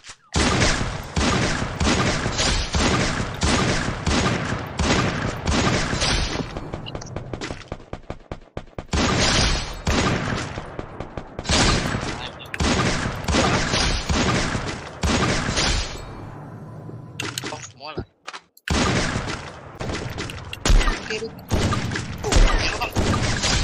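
Dense, rapid gunfire from the video game Free Fire crackles almost nonstop in loud bursts, with a brief lull in the middle, while a player talks over it.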